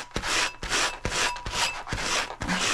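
Sanding block rubbing over cured UV resin on a clear wine glass, six rhythmic back-and-forth rasping strokes, close and alone.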